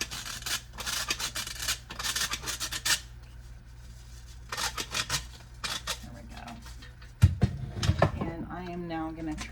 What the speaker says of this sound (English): All the sugar, salt, soda, and baking powder in here. I'm gonna sift all that through together.